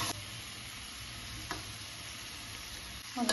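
Crab fry stirred in a hot pan, a steady close sizzle broken by a couple of short spatula scrapes, no speech.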